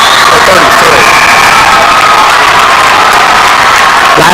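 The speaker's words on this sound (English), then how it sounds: "Crowd's going crazy" A basketball crowd in a school gym cheers and shouts, loud and unbroken, with high whoops and children's voices rising out of the roar.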